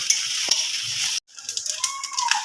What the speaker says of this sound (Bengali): এইবারে বেগুনটাকে ভেজে নেওয়া হচ্ছে